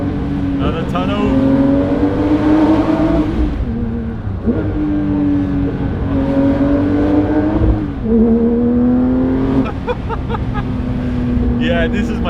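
A Porsche 992 S/T engine drones loud and close while driving through a tunnel, rising in pitch with each gear before dipping at the shifts, repeated several times.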